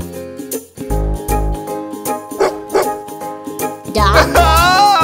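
A dog barks several times in quick bursts, close and fairly loud, with a whine-like cry near the end.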